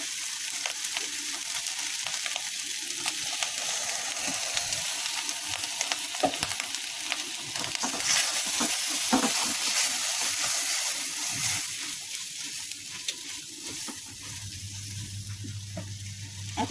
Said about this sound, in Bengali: এখন আমি এর মধ্যে দিয়ে দিব নারিকেলের দুধ